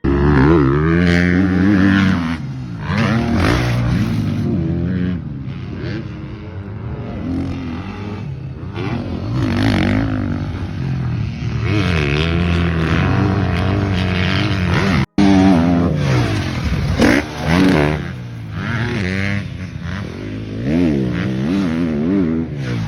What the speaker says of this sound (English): So here it is, the first footage of Cooper Webb back on the bike.